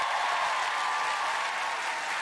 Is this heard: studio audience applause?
yes